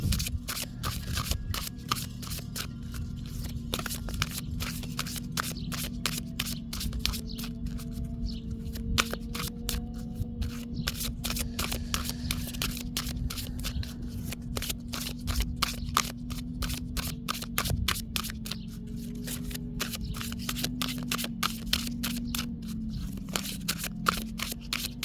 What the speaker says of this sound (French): les cartes glissent à peu près bien